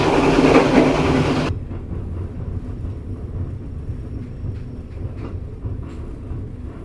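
The Joglosemarkerto passenger train rumbles along steadily, heard from inside an executive-class carriage, with a low continuous roar and faint rhythmic clicks; a louder burst of noise cuts off early on.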